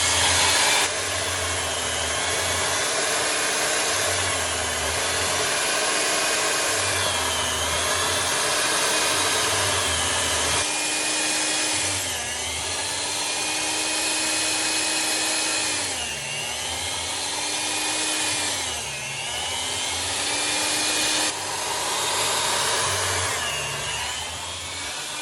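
An electric slicer runs continuously with a steady motor whine while cutting elk meat into roughly quarter-inch jerky strips, its pitch dipping briefly each time a piece feeds through.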